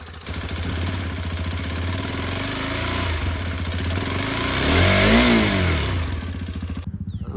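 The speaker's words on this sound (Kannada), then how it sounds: "ಫಸ್ಟ್ ಸರ್ವಿಸ್ ಆದ್ಮೇಲೆ ಗಾಡಿ ಸೌಂಡ್ ಐತಿ" A motorcycle engine, just after its first service, runs at a steady idle, swells into a rev around the middle, then settles back. The rumble is loud and close, with no voices, and cuts off abruptly at the end.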